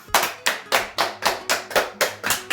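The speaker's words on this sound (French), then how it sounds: "Ils ont le mérite d'être applaudis" Sharp hand claps sound in a steady, evenly spaced rhythm, about eight crisp strikes in a row, close and clear with nothing else beneath them.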